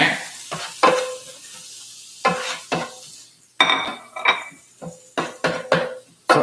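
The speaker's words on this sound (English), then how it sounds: "In the other area, I'm going to saute the rice. Or saute the eggs." Eggs and rice being sautéed in a pan for egg fried rice: a spatula scrapes and clanks against the pan in separate strokes over a soft sizzle, close and without talk.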